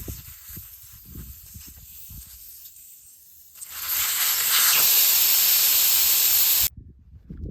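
Air rushing from a tire valve stem with the core pulled, a loud steady hiss that starts abruptly, holds for about three seconds and cuts off sharply, with quieter low rumbling before and after.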